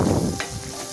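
Onion and brinjal masala fry in a pan with salt added, giving a close, steady sizzling hiss that holds evenly from start to end with no voices.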